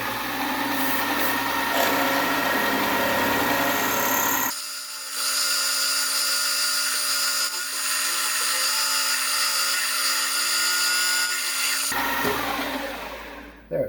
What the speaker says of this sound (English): So let's go ahead and drill a hole.